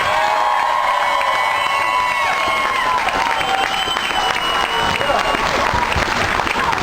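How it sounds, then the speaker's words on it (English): Loud, sustained applause and cheering from a crowd after a political speech, dense clapping with whoops and shouts layered on top throughout. "Another round of applause for Scott."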